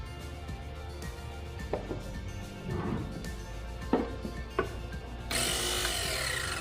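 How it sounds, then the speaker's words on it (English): A $100 single-dose espresso grinder with 60mm 019 flat burrs runs steadily with a mechanical whir and a few sharp clicks, switching near the end to a brighter, harsher grinding tone; no one talks. "let's hear the grinder. We need to hear a smooth sound on the grinder before we start."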